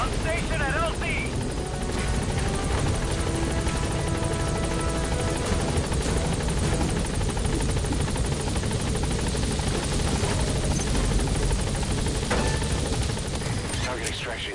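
A helicopter in Metal Gear Solid V arrives at a landing zone, its rotor thumping loudly and continuously with scattered gunfire and radio-style voices mixed in.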